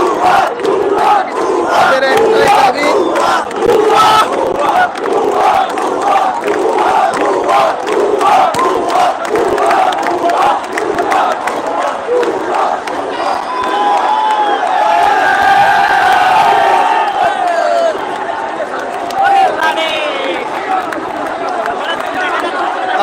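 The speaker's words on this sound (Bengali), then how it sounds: "হাজার হাজার মানুষ সরকার পতনের নানান স্লোগান দিচ্ছে তারা" Thousands of students and protesters in Chittagong chant anti-government slogans in unison, a loud, rhythmic mass of voices with shouts and cheering rising over the crowd throughout.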